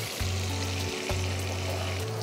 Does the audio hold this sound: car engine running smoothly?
no